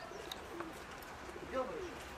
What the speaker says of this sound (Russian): посмотри, как голуби летают хоть